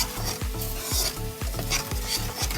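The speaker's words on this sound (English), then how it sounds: "I'm mixing the boba with the brown sugar that we have, and you want to make sure you want to stir" Boba being stirred with brown sugar in a pan, with a steady rhythm of spoon scrapes against the pan, about two per second, over a continuous close sizzle.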